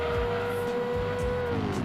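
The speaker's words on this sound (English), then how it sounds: "Oh, I love the noise. The high revs combined with that whistle from the turbocharger." Mazda RX-7 in Gran Turismo 2 holding high revs with a thin turbo whistle, a steady, fairly quiet whine with a sustained tone that eases slightly toward the end of the short burst.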